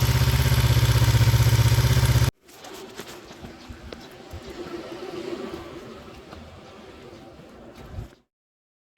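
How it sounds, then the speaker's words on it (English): A Kawasaki Ninja EX500 motorcycle engine idles with its gas tank removed, a steady close mechanical rumble with light valve clatter, running alone for several seconds before cutting off, preceded by a brief loud burst. "You really hear the valves clacking when you have no gas tank covering it over"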